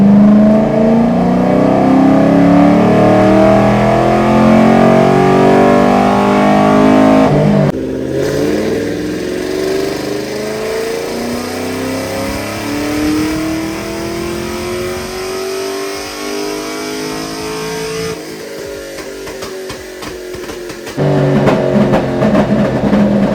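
A BTR Stage 3 LS3 Camaro running E85 roars at wide open throttle on a dyno, with a loud, sustained engine note whose pitch climbs steadily through the pull, then drops and rises again, with no speech.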